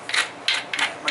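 Novaculite knife-blade preform being ground during flint knapping, heard as close, harsh scraping strokes in four quick rhythmic bursts.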